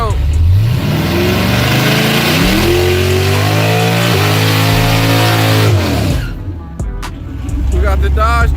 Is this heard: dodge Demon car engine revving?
yes